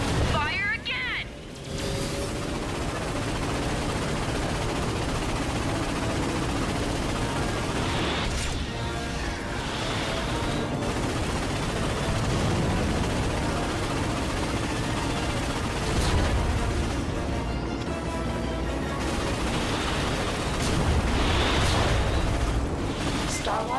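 Heavy booming ion cannon blasts fire repeatedly over a dense roar of game sound effects in Ratchet and Clank, loud and continuous with several sharp bursts.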